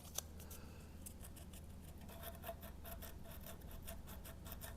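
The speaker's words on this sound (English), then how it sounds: "run the sandpaper through there" Sandpaper rubbed through the saddle slot of a Donner LP-style electric guitar, quiet close scratchy strokes in a quickening rhythm, faint and steady throughout.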